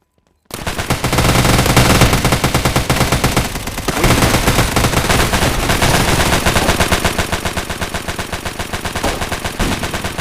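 Sustained rapid automatic gunfire from the mobile shooter game Hazmob FPS, loud and continuous for about ten seconds after a short silent start.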